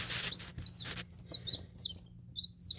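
Baby chicks in a brooder peep with thin, high chirps, scattered and repeating over a low background hum.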